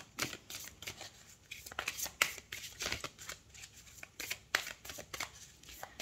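Tarot cards are shuffled and drawn for a six-card spread, a close, crisp series of riffling and flicking card sounds in uneven bursts, with soft voice faintly in the background.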